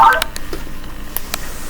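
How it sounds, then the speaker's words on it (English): A telephone rings close by in short bright bursts, each one brief and sharp. "Oh my God, there's the phone."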